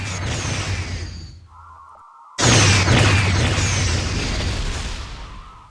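A ship or structure detonating in the space strategy game Star Trek Armada: a loud, sustained burst with a rumbling whoosh that swells after a brief quiet and lingers close up.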